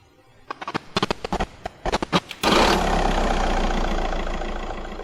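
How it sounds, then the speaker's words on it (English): An engine ignition effect starts with a burst of rapid mechanical clicks and cranking. The engine then catches and roars into a loud, steady idle that holds to the end. "I'm going to go back to the start here and add a ignition sound effect."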